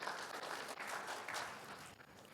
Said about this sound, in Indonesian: Boleh tepuk tangan bagi Tuhan Yesus.